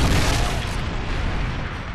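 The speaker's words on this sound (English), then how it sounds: "Predator missile inbound" A Predator missile detonation in a Call of Duty-style shooter, a loud broadband blast with a rumbling, crackling tail that fades over two seconds.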